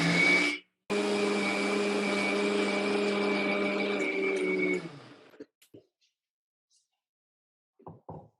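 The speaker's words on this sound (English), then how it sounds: "I'm going to blend this now to make it into a beautiful paste." A kitchen blender grinds a spice blend into a paste, a loud steady whirring drone for about four seconds after a brief start and stop, then it winds down, followed by a few faint clatters.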